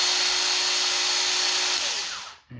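A battery-powered mini chainsaw mounted on a pole whines at a steady high pitch for about two seconds, then winds down and stops, close and loud.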